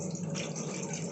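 Water is poured by the glass into a pot for black tea, a brief, quiet, steady splashing gush with no talking.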